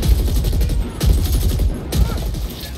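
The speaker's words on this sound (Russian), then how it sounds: "это штурмовая винтовка" Rapid, sustained assault rifle fire in the video game The Ascent: loud, close bursts of shots with brief breaks between volleys.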